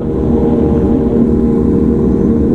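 A 1000cc Kawasaki ZX superbike engine is revved hard during a street gathering in Sidoarjo, a loud, dense, close-up rumble held steady for a couple of seconds with no voices.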